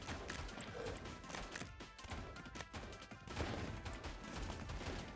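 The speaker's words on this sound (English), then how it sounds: "I'm going to put down the dynamite. So now we're going to start exploding everything." Dynamite blasts in the zombie roguelite game Deadly Days Roadtrip come as a dense run of rapid booms and crackling bursts, cluttered and busy, at low overall volume.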